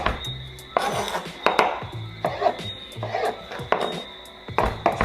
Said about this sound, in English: And then we're now going to dice this now all the way through.